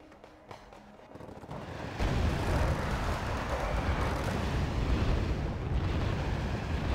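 Artillery fire in the video game Wargame: Red Dragon, a loud, dense rumbling barrage of explosions that kicks in after a quieter opening and roars continuously to the end.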